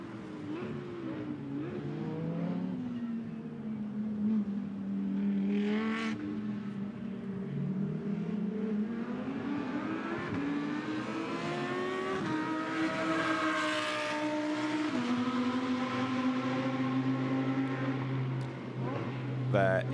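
GT2 race car engines during free practice at Spa, one car with a new engine, sweep up and down through the gears at a distance while a commentator talks over them continuously.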